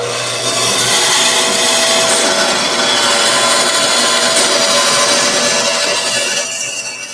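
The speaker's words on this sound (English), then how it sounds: "I'm not going to make those curves with this bandsaw, so that I cut those pieces off." A bandsaw cuts wood pieces off a cane blank in a shop, a steady loud whining buzz with rasping blade noise that runs continuously for several seconds before easing slightly at the end.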